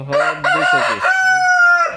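A rooster crows loudly and close by in drawn-out calls, with hens clucking around it in a coop of about two hundred chickens.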